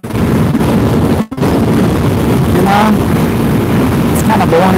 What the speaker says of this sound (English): this bike runs smooth at 73, 74 miles an hour